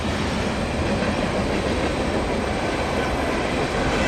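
A CN freight train with 594 axles, hauled by locomotives 2931 and 3829, rumbles past steadily and loudly, a continuous broadband roar of wheels on rails with no pauses for the full length.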